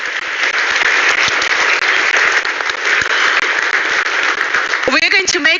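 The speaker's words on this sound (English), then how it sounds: "Let's give them some applause, please." An audience at the BRICS summit applauds panelists, with a dense, loud, sustained wash of clapping from a large crowd that runs throughout, and a voice speaks briefly near the end.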